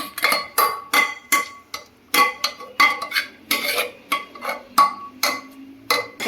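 Cooked taro leaves and dal are mashed in a pot, heard as a loud, rhythmic series of clanks and scrapes of the utensil against the metal, roughly two strikes a second, with no voices.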